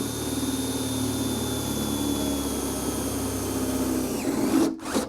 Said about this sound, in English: I'm going to use my Beehive drill bit that's a unibit to open the holes up a little bit more